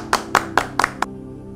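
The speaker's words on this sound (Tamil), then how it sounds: "இப்ப எல்லாரும் கைதட்டுங்க." A group in a school setting claps hands together in five sharp, evenly spaced beats, then stops, with a low steady hum underneath.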